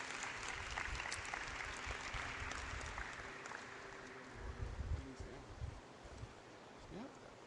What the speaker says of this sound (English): Big round of applause for John Molvar, please.